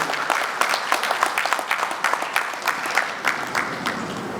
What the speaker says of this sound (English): A round of applause for him as he makes his way